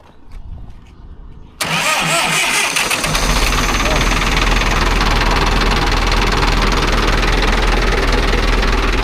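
A Ford 6610 farm tractor cranks briefly, then its diesel engine catches and settles into a loud, steady rumbling idle close by, with a voice heard over it.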